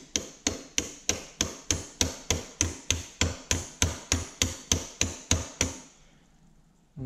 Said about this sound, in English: I'm just going to use this brass hammer and tap just the inner race